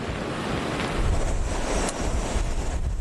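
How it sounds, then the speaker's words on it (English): Hurricane Ike's storm waves crash continuously on the flooded Galveston shore, loud and steady, with heavy wind roaring over the surf and no voices. "These waves are coming in so fast."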